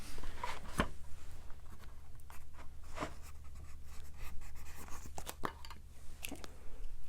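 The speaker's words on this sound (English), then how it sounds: "just going to write that down" Pen writing down a measurement during a close-up bike-fit session in a bike shop, heard as a few brief scratchy strokes and taps with pauses between them, quiet and near, with no talking.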